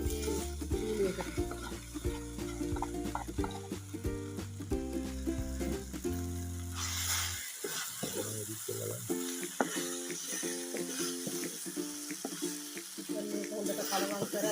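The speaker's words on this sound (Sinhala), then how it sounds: "අමු මිරිස්, ටික බැදලා තියෙන්නේ. බණ්ඩක්ක ටික දාගමු මේ එකට." Okra fries with green chillies in a pan, giving a steady sizzling crackle throughout under a tonal musical background, with brief stirring noises partway through.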